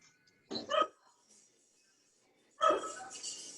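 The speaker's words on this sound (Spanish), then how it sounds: "Hay un perrito por ahí ladrando." Two short dog barks separated by a pause, fairly clear and close, with quiet background between them, heard at a university faculty building.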